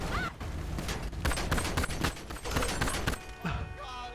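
Rapid, dense gunfire crackles without pause during a violent roadside shootout in a GTA roleplay game, with bursts overlapping and loud throughout, and a few faint voices mixed in toward the end.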